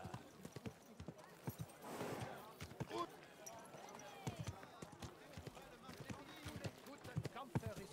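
Steady clip-clop of horse hooves trotting at an even rhythm in a video game, mixed with game sounds and a voice speaking over it.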